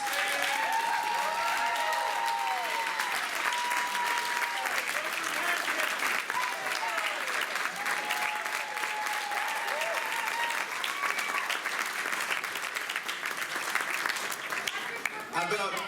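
An audience at a community farewell gathering applauds steadily after a speech, the dense, even clapping filling the whole stretch with a few high whistles and cheers riding over it.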